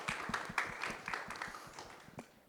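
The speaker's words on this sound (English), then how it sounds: "let's give a round of applause for our panelists" An art museum audience claps for the panelists at a talk on natural dyes, a soft, fairly distant round of applause with scattered individual claps that thins out toward the end.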